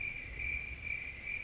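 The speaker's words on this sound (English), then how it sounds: "I'm hearing a lot of crickets, which is funny." Crickets chirping in a steady, continuous high trill, faint and constant with no other sounds or voices.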